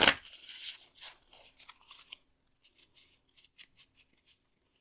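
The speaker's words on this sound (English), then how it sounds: "I'm still getting used to shuffling this deck. It's my newest tarot deck" A new, stiff tarot card deck being shuffled up close, giving a loud initial snap and then a run of quick, crisp flicking clicks that thin out into sparser, lighter taps toward the end.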